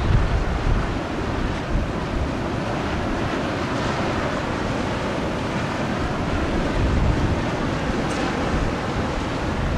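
Strong wind roars across an exposed shore near White Hills as surf breaks, a steady dense rush with buffeting gusts hitting the microphone throughout, no voices.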